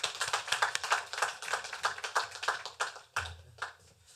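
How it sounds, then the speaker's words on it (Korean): A church congregation bursts into warm applause during a Sunday service, a dense run of steady clapping that swells and dips for several seconds before briefly stopping and resuming more faintly. "나오실 때 박수로 환영해 주시기 바랍니다."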